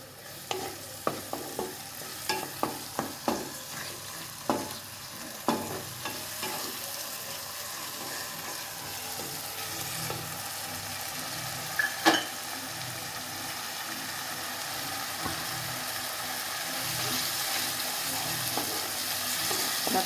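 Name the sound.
sautéing tomato paste with onions in a pan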